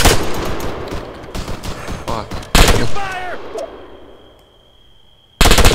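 Airsoft gunfire in a nighttime skirmish game: rapid bursts of shots crackle through the first half, then a sudden loud volley. Players shout and talk between the bursts.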